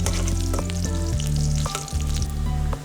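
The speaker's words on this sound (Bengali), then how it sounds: "পেঁয়াজ কুচিটা আমরা এখন গরম তেলে ভাজবো কিছুক্ষণ" Chopped onion fries in hot oil with a loud, continuous close-up sizzle, and a low steady hum runs underneath.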